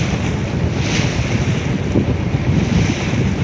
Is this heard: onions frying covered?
no